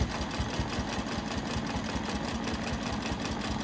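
A sewing machine stitching a quilt runs steadily at speed, a continuous rapid mechanical hum with a fine, even stitching pulse, close by and alone.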